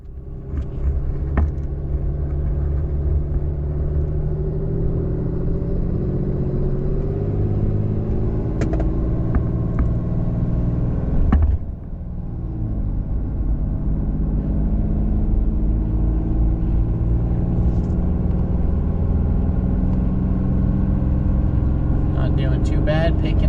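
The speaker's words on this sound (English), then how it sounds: "let's hop on the freeway and see how it does." A Dodge Ram 2500 with a 6.7 Cummins diesel tows a fifth-wheel toyhauler on the freeway, giving a steady, loud engine and road rumble with one brief mid-clip surge as it shifts, while someone talks over it throughout.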